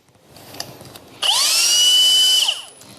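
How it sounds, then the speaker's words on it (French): Hilti SF4 cordless drill-driver spinning up into a steady, loud high whine that holds for about a second and a half before winding down, heard close by after a short quiet lead-in. "faire plusieurs enchaînements de perçage avec la visseuse SF4"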